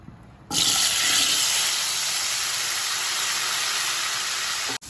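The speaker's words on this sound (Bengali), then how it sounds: "আলুগুলো ভেজে নেব" Potatoes coated with salt and turmeric hiss as they fry in hot oil, a loud, steady broadband sizzle that starts abruptly after a brief quiet moment and holds evenly to the end.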